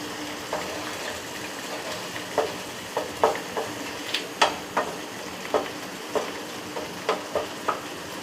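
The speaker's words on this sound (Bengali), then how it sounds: "বড় চামচে 2 চামচ মতো দই নিয়েছি, এটা আবার মধ্যে মিশিয়ে দেবো, দিয়ে এটা আবার ভালো করে নাড়াচাড়া করে নেব।" A spoon stirs yogurt into palak paneer gravy in a pan, producing soft repeated scraping taps at an uneven rhythm over a steady low sizzle, close by and moderately quiet.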